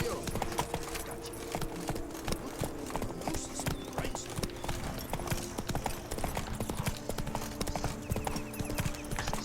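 Roach, Geralt's horse in The Witcher 3, gallops with a rapid, continuous clip-clop of hooves, close and steady throughout, with a faint tonal hum underneath.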